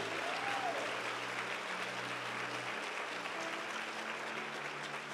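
A church congregation applauding, a dense steady wash of many hands clapping that holds at even loudness throughout, with faint voices underneath.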